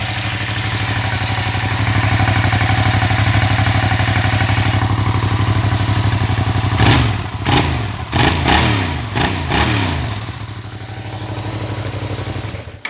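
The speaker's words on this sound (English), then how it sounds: "Purr of a stock MT07." A near-stock MT-07 motorcycle engine idles with a steady, low throbbing rumble, then a few quick throttle blips rev it up near the end before it settles again.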